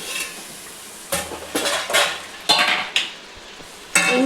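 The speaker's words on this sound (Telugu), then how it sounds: "దాని మీద ఒక ప్లేట్ పెట్టి మూసేస్తా." Several separate clatters and clinks of a plate and metal pan against each other over a frying pan of tomatoes and chicken, with a faint sizzle between the bursts; no voices.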